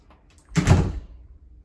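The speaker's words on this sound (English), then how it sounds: "you obviously just push that on there and then open the door" A holiday lodge door swinging open at a Center Parcs forest site, one short burst of rattling and scraping with a dull thud, close by and fairly loud amid otherwise quiet surroundings.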